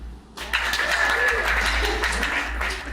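Studio audience breaking into applause, a burst of clapping that starts abruptly and carries on steadily for a few seconds.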